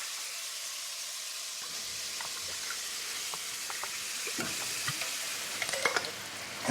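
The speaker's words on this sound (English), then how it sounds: "It's just a simple tomato puree that I'm just going to put in." Simple tomato puree goes into a hot pan for Italian Sunday gravy, bringing a quiet, continuous sizzle and bubbling hiss, with a few small spoon taps and clinks building toward the end.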